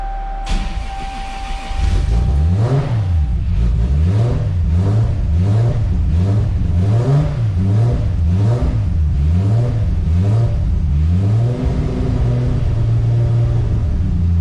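A Toyota Supra engine turns over and catches after a brief crank, then revs repeatedly in a rhythmic rise-and-fall pattern before settling into a steady idle, loud and close throughout.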